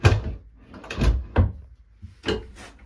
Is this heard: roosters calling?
no